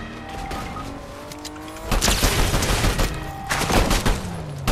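Gunfire in a ranked Fortnite match, loud bursts of rapid shots in two clusters over game sound effects and engine-like tones.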